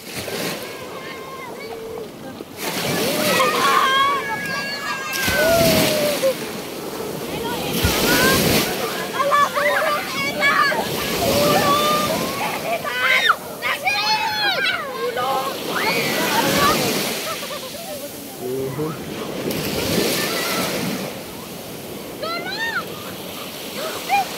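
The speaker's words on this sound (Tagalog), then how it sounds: "High tide." Sea waves washing in at high tide, a steady broad rush of surf with wind buffeting the microphone, while voices talk nearby throughout.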